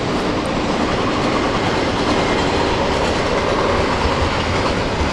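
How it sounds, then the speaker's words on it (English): A long Norfolk Southern freight train rumbles steadily past close by in a park, a dense, continuous roar of rolling wheels with faint clickety-clack and no pauses. "We have a Norfolk and Southern train coming by right alongside the park here."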